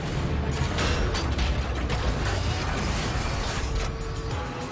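Pinball machine shaker motor spinning two five-ounce off-center weights, a loud continuous rattling mechanical rumble that shakes the cabinet, steady for several seconds with no voices.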